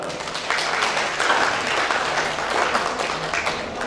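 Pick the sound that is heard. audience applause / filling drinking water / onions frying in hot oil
audience applause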